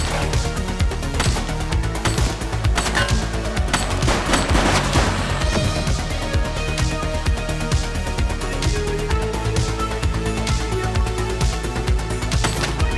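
Dense, sustained gunfire rattles through a shootout in the police video game The Precinct, rapid automatic bursts and overlapping shots layered over a steady game soundtrack with no pauses.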